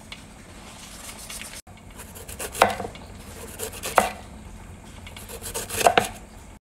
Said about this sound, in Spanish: Vamos a rallar o lo vamos a picar finamente.